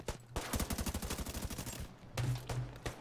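Rapid automatic gunfire in The Division 2 rattles off in a fast, evenly spaced burst, then a couple of heavier shots follow after a brief pause, close and punchy with no talk.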